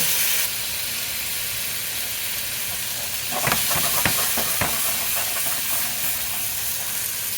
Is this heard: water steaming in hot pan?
yes